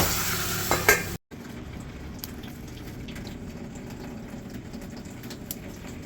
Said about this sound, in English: Just let it cook for a little bit, cover it up